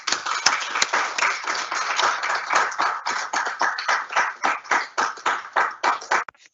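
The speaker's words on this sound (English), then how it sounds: "let me turn the camera to the audience and we'll end with a final round of applause" A small audience gives a final round of applause, heard as distinct individual hand claps in a steady, slightly uneven rhythm, moderately close and clean, thinning toward the end.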